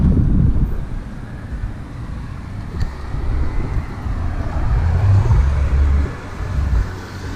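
Street traffic on a Freetown road in Sierra Leone, with car engines passing close and swelling and fading over a continuous roadway rumble and gusts of wind, no speech.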